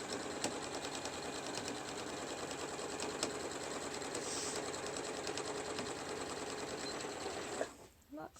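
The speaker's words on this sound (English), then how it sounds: "You're just going to be doing a straight stitch along there, do a lock stitch" A sewing machine runs a straight stitch along a fabric mask with a fast, even, close mechanical whir that stops abruptly near the end.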